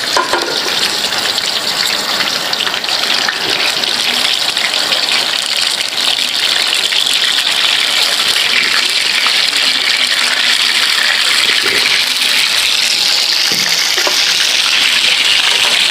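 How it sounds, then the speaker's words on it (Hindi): Three quarters of a pound of chicken legs hit hot oil in a karahi and fry with a loud, steady, full sizzle that roars without letup for sixteen seconds, with no talking. "सबसे पहले हम इसमें चिकन डालेंगे।"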